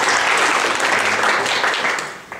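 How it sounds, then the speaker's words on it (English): Audience applause for a presenter at a business talk on machine learning, a dense burst of clapping that holds steady and then tapers off near the end. "Applause for Thomas."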